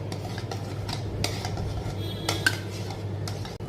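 Chicken being mixed by hand or spoon with ginger garlic paste in a metal bowl, giving soft wet squelches and light clinks of metal, steady and close, with no talking.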